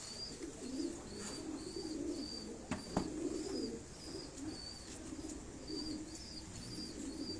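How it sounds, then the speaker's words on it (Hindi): Pigeons in a loft coo in repeated soft, rolling phrases over a steady low hum, moderately close, with no talk. "कबूतर ये आपको दिखाए जा रहे हैं।"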